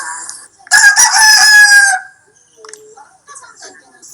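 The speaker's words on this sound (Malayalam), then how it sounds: "ഇത് ശ്രീകാന്തിന്റെ സ്വന്തം കുട്ടു എന്ന പൂവൻ കോഴി" A pet rooster crows once, loud and close, in a single long call with a faint rustle and quiet sounds after it.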